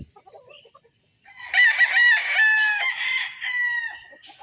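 A Kelso gamecock crows once, a long strained cock-a-doodle-doo, fairly close and loud, after a few soft clucks.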